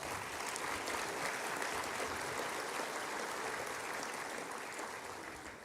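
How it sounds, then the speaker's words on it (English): A large audience at a Corpus Christi State of the City address breaks into sustained applause. It forms a thick, even roar of many hands that holds steady and tapers slightly at the end. "Give them a round of applause."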